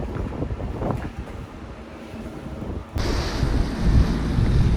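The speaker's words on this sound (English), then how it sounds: "that wind is biting me, it's coming straight through me" Strong, cold January wind buffets the microphone on the Norfolk coast at Holkham, a loud, continuous roar that swells and gusts harder in the second half, with no voices.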